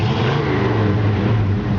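A 1963 Ford Galaxie convertible's exhaust burbles with a deep, steady engine drone, with a slight swell in pitch as it revs gently. The note is close and fairly loud, with no talking over it.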